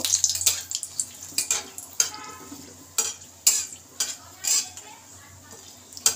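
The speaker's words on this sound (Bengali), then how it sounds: "এখন আমি 2টো শুকনো লঙ্কা দিয়ে দিলাম তেলে, আর 2টো তেজপাতা। একটু ভেজে নেব।" Dried red chillies and bay leaves fry in hot oil, with sharp spoon-and-pan clatters and stirring knocks sounding over a soft sizzle, close and intermittent.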